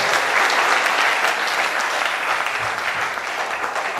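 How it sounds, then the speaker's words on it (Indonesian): An Indonesian church congregation at Sunday worship breaks into sustained, full applause for God after a prayer, many hands clapping densely and loudly for several seconds, then easing slightly toward the end. "Tepuk tangan buat Tuhan yang berdoa."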